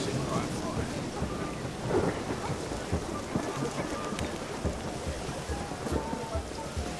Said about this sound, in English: Let's get out of this rain, eh?